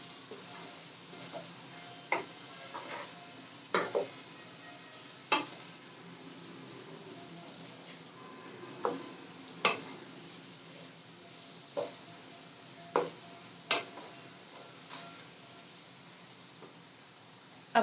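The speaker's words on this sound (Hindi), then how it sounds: "अब हम इसको अच्छे से मिक्स करेंगे।" Chow mein with spices is stirred in a pan, with soft sizzling under sharp utensil clacks and scrapes against the pan at irregular intervals, close up and without talk.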